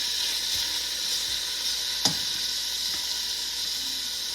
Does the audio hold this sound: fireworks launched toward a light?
no